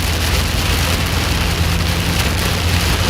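Heavy rain drums steadily on a vehicle during a supercell storm chase in Indiana and Kentucky, a loud, continuous wash of noise with no let-up.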